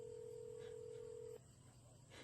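A telephone emits a faint, steady electronic tone that holds for about a second and a half, then cuts off abruptly, leaving low background hum.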